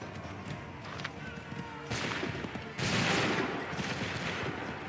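Musket volleys crash out in an Assassin's Creed III battle at Lexington and Concord, with two loud bursts of massed fire a second apart, each trailing into a sustained crackling roar.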